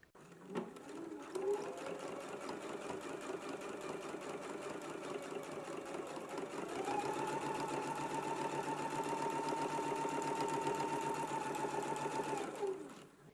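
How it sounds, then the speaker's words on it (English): A sewing machine running a top stitch along a flat felled seam, a close, steady rapid whir that starts up, shifts to a faster, higher hum midway, then stops, alone with no talk. "Let's go ahead and do our top stitch now."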